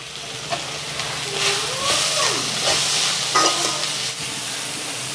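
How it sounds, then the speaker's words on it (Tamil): A garlic, pepper and cumin mixture for sambar is sautéing and being stirred in a pan. Soft sizzling runs under occasional spoon scrapes and clinks, fairly quiet. "இப்போ இதெல்லாம் வதங்கி கொண்டு வந்துட்டு இவ்வளவு காணும் வதங்க நல்லா வதங்கணும்"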